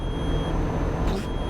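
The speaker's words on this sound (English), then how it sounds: "What is that beeping?" A steady electronic warning beep sounds inside a truck cab in Euro Truck Simulator 2, a thin, high repeating tone over a constant low engine drone, with no one talking.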